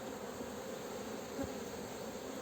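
Honeybees hum around a hive in a low, continuous buzz, soft and steady throughout, with a faint knock near the middle.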